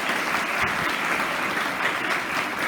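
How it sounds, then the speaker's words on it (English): An audience gives a big round of applause for students, budding young scientists, with thick continuous clapping from many hands, steady and loud with no talk over it. "Give them all a big round of applause"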